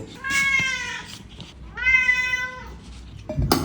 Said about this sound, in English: Now we need the meow sounds.